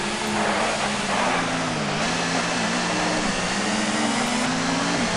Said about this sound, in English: I can hear the engine getting louder and louder.